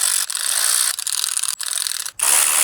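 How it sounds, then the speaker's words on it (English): A 1/4 inch ratchet runs bolts down on a BMW intake during a cooling system overhaul, giving steady, close, loud clicking in several continuous bursts separated by brief pauses, with no voices. "I'm gonna gently run these down with the ratchet"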